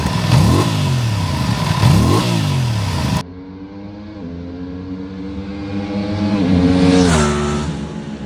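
An Aprilia RS660 Factory motorcycle's engine revs hard and loud, with rising and falling pitch sweeps in two quick blips, then a steadier idle climbing into a long rev build.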